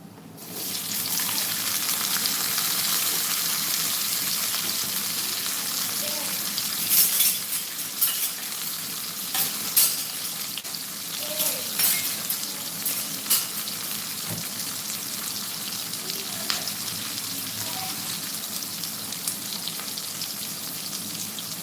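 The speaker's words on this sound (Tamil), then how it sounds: "சோம்பு ஜீரகம் கொஞ்சம் பொறிஞ்சு வந்தோடனே கட் பண்ணி வச்சுருக்க வெங்காயம் போட்டுக்கலாம்" Onions frying in oil with fennel and cumin seeds, a loud continuous sizzle with scattered pops and stirring scrapes throughout, no voices.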